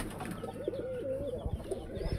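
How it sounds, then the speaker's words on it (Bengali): Indian Lotan pigeons in a loft in Bogura cooing softly: a low, warbling coo rolling over a faint ambient hum, close and alone, with a few soft thumps of movement. "সব লোটন, সব ইন্ডিয়ান লোটন কবুতর"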